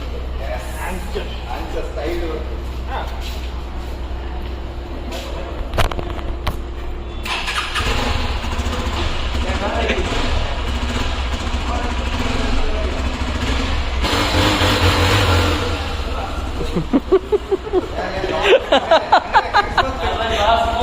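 A new Hero Xpulse 200 4V motorcycle starts up and runs, its engine rising from a low idle into louder revving near the end, with people talking and cheering around it during the delivery.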